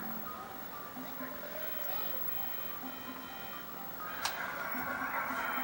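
A tinkling ice cream truck jingle plays in Grand Theft Auto, a short melody repeating at a moderate level beneath game ambience, with voices talking over it.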